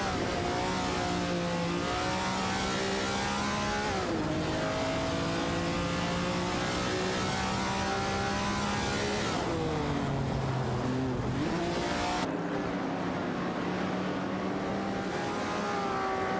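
Classic muscle cars roar around a track in a racing video game, their loud engine notes climbing and dropping as they shift gears, with several overlapping engines growling continuously throughout.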